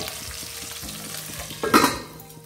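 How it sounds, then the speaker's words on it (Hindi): Chopped capsicum fries in a pan over a medium flame for restaurant-style chilli paneer, a steady close sizzle with stirring scrapes and a brief louder hiss near the end. "अब इसे हल्का मीडियम फ्लेम कर देंगे और ढक के 2 मिनट तक पकाएंगे।"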